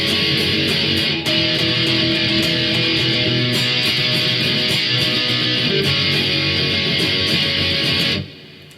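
Loud, dense distorted electric guitar plays the bridge of a song in a continuous wall of sound, close and steady for about eight seconds before cutting off abruptly.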